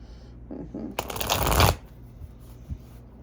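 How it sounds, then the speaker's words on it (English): A deck of tarot cards is shuffled close by, a dense riffling burst lasting under a second followed by a quieter tap, with faint room noise around it and no talking. "Let's get some tarot cards."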